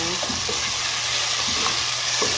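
Tomatoes cooking in a pan for chicken afritada, a loud steady sizzle with a few soft stirring clicks, close and continuous.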